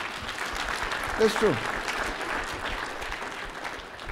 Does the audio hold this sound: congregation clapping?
yes